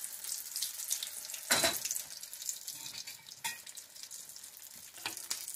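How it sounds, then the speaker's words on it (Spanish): Chile relleno burrito in a tortilla frying in oil, a steady close crackling sizzle with a brief louder burst of spattering partway through, no talking. "Vamos a dejar freír."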